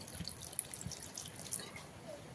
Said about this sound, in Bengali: প্রথমে দিয়ে দিচ্ছি মিক্সির বাটি ধোয়া জল